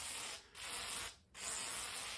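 A WD-40 can sprays onto a rusty table saw in three bursts of steady hissing separated by two short pauses, close and fairly quiet.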